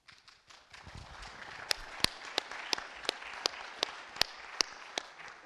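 Clapping during a state legislative reapportionment hearing: sharp, evenly spaced claps ring out one after another over a low background murmur, growing steadier after the first second.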